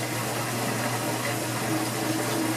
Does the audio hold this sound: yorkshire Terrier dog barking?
no